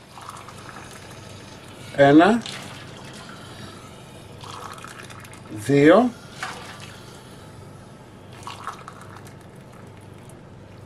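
Water poured steadily from a cup into a baking pan while preparing a garlic pork roast, a continuous liquid rush running under a voice counting aloud.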